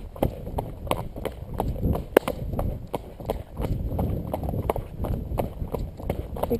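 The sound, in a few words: horse cantering uphill, hooves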